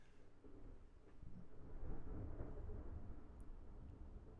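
Distant thunder rumbles low and faint during a lightning storm, building slightly and then rolling on steadily for a few seconds.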